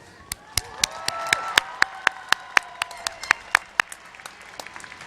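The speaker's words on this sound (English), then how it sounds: "Would we give them a round of applause, please?" Audience members at a university commencement ceremony clap in a thin, spaced-out rhythm, each sharp clap distinct and echoing in a large hall, while faint voices murmur underneath.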